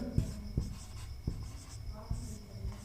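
Chalk or marker strokes on a classroom board during a Hindi grammar lesson, a few sharp taps and scrapes spaced irregularly, with faint talk in the background.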